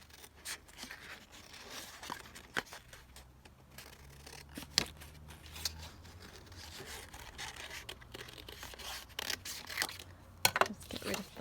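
Scissors snipping master board paper while cutting out a bow shape: quiet, irregular crisp snips and paper rustles, close by at low level, with occasional crinkling between cuts.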